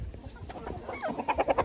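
Turkeys eating apples in a poultry yard, with close, busy clucking and gobbling calls that rise into rapid repeated notes toward the end.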